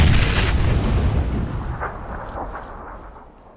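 Loud PUBG gunfire booms in a heavy burst, then trails off into a rumbling echo that fades away.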